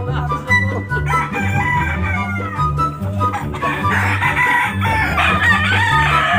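Roosters crow loudly on a farm, with repeated calls and clucking from other chickens overlapping through the whole stretch.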